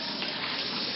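Water poured out for a pet dog, a steady close splashing gush that fills the moment without any talking.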